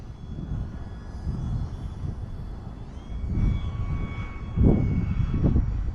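An OMP Hobby S720 RC airplane engine drones in flight, then throttles up and swells louder twice as the model climbs, heard from nearby outdoors.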